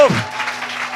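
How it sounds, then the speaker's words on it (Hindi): Congregation clapping hands during a worship service, a short burst of dense applause that swells briefly with a voice at the start, then continues steadily. "सभी लोग ताली बजा कर आराधना करो"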